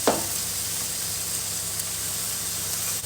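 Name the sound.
pork chop searing fat side down in pan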